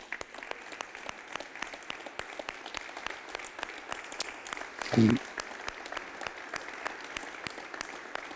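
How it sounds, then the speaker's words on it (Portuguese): Church congregation applauding during a communion service, a steady sustained clapping from many hands at moderate distance, with a brief louder voice or exclamation partway through. "Salva de palmas para Jesus."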